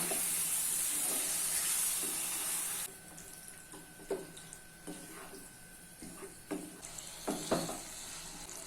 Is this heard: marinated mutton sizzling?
yes